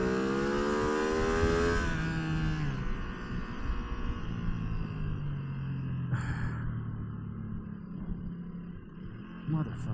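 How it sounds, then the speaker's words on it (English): Cars passing on a mountain road heard from a Ducati Streetfighter V2 motorcycle, a loud engine note rising and falling under rushing wind, with a brief burst of noise near the end. "Oh, fuck, a whole bunch of cars."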